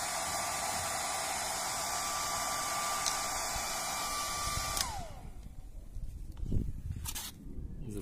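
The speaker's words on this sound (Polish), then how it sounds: "Zobaczcie, suszarką troszeczkę schodzi." A hair dryer blows steadily at close range to warm a sticker so it can be peeled off, a continuous broadband whoosh that cuts off abruptly partway through, leaving quieter handling noises.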